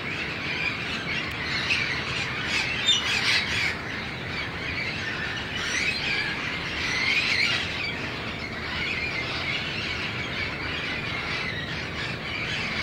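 A large flock of parrots in Guadalajara, Mexico, makes a dense, continuous wash of shrill squawks and screeches, with a few harsher calls standing out over a noisy outdoor background and no talking.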